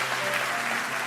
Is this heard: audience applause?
yes